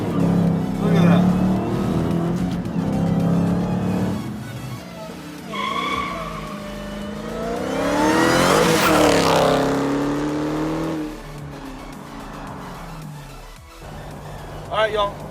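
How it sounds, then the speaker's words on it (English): A Dodge Hellcat launching hard under launch control, its engine roaring up through the revs with tire squeal and skidding, loud and close, while people talk and cheer around it. "so now we're gonna do a launch control test"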